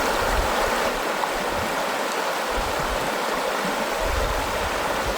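A clear, cold river on Vancouver Island flows steadily at a campsite, a constant close rushing of water with no pauses and no voices.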